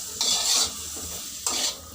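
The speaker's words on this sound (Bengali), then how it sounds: "এটা একটু ভালো করে গ্যাসটা বাড়িয়ে নাড়িয়ে নিলাম" A spoon stirs spices with turmeric and salt in a hot pan on a gas stove, two bursts of scraping and sizzling about a second apart, close and fairly loud.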